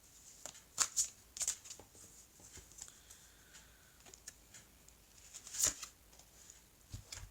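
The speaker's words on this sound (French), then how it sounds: "Alors je vais prendre une carte ici." An oracle card is drawn from a deck with quiet, crisp papery flicks and snaps, a few sharper clicks standing out among soft rustling, close and fairly faint.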